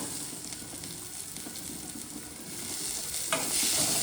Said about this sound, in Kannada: ಕೊತ್ತಂಬರಿ ಹಾಕೊಂಡು ಒಂದು 2 ಮಿನಿಟ್ಸ್ ಹಿಂಗೆ ಫ್ರೈ ಮಾಡಿ